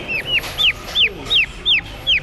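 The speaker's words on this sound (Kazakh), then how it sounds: "Үндіктің балапандары." Turkey chicks at a busy poultry market give a run of six high, shrill peeping calls, evenly spaced and close, with faint market noise behind them.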